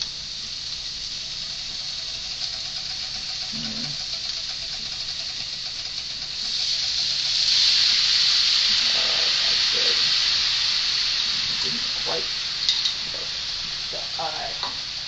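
Broccoli and beef simmering in soup stock in a covered wok, a steady hiss and bubbling boil that swells louder midway, with a few faint clinks and brief soft speech.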